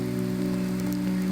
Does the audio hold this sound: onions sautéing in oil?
no